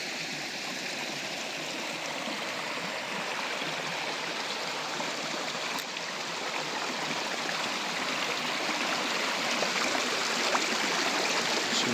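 The Pujica river stream rushes and gurgles steadily as it flows through Brestovačka spa, a continuous close water sound with no voices.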